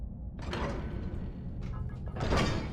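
A heavy door in Skyrim grinds and rumbles open in the College of Winterhold area, with two mechanical scraping surges over a low, steady game ambience.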